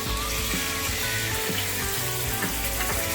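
Lamb stomach (tripe) sizzles and crackles in hot vegetable oil, a dense, continuous frying hiss with small pops, close and fairly loud with no voices.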